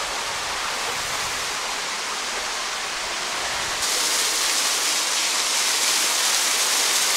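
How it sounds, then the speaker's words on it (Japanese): Steady broadband roar of a waterfall at Genji Falls in Japan, a continuous dense rush of falling water up close that grows slightly louder and brighter partway through, with no voices over it. "滝のところまで来ました。"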